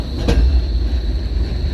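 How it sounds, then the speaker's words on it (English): A tram rolls past on a Berlin street, a loud, steady rumble of wheels on rails with a brief clatter near the start, heard close by and without talk. "Here is a tram."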